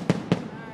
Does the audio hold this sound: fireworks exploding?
yes